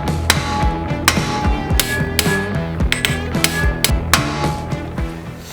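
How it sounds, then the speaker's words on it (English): Sharp metallic hammer blows strike a stuck nut on a high-mileage Porsche 911 Turbo, irregular loud close whacks ringing over low mechanical clatter in a garage. "It will be a pain in the ass to get this nut off once we've been whacking on it."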